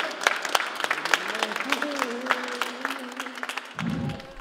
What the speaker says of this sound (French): On s'applaudit toujours.